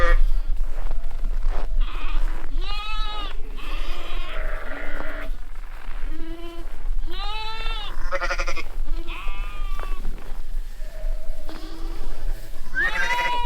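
Sheep bleat repeatedly in a pen on a frozen farm in extreme cold, several overlapping calls near and loud, with no talk.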